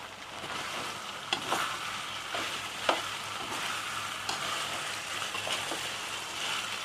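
Pork rendang with turmeric leaves sizzles and is stir-fried in a pan over a low flame, a steady close frying hiss with a few sharp clicks of utensil against pan.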